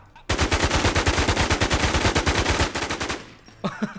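Sustained automatic fire from a SIG Sauer 556 +2 in BNG: Infestation, a loud, rapid burst of evenly spaced shots lasting about three seconds, followed by a brief quiet and a few trailing sounds.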